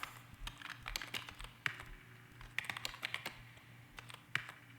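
Rapid keyboard button clicking from a character operating a machine in the video game Exogate Initiative, irregular clusters of crisp clicks with a faint steady hum beneath.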